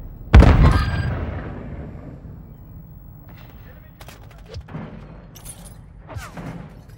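A stun grenade in Call of Duty MW3 goes off as one sharp, loud blast followed by a long decaying ring, then scattered gunfire and small impacts in the distance.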